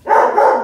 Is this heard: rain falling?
no